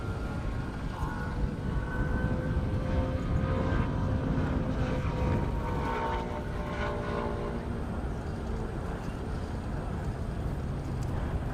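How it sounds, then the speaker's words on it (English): A low-flying propeller airplane making an approach practice over an airstrip drags a broad engine drone that swells and fades across the clip, with a wavering tonal hum riding over heavy background rumble. "we're going to have a plane that's going to do what you call an approach practice"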